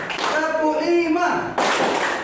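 A teacher speaks to a class, then the students break into a sudden, loud burst of group hand clapping that carries to the end.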